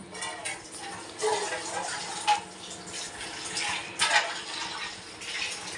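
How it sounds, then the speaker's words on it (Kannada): Water is poured lightly into a pot of Mandya-style mutton sambar, a soft splashing trickle coming in short bursts, close by and moderately quiet. "ಸ್ವಲ್ಪ ಲೈಟಾಗಿ, ಜಾಸ್ತಿ ಬೇಡ, ಲೈಟಾಗಿ ನೀರು ಹಾಕ್ಕೊಂಡು"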